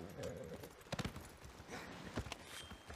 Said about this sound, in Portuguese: Cavalo bom.